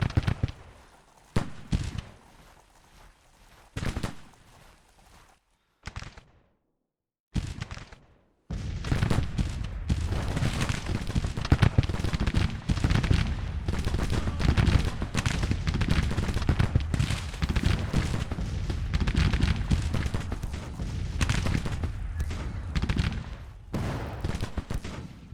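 Musket volleys and artillery fire in Grand Tactician: The Civil War, a dense, continuous crackle of gunfire with scattered heavier booms, broken by brief gaps early on before settling into a sustained, loud barrage.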